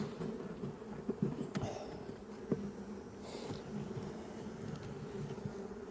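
Honeybees buzzing around frames from a hive of new splits, a soft continuous drone with occasional louder passes of single bees near the microphone.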